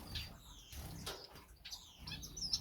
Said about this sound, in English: So there's quite a few of the star finches.